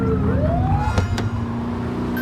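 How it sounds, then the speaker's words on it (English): A police car siren in The Precinct video game wails loudly and close, its tone sweeping upward over a steady engine rumble, with no talk over it. "Get on their tail and flip the siren"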